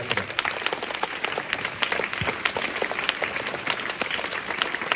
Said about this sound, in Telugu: ఆయన చప్పట్లు కొట్టండి ఒకసారి అందరూ.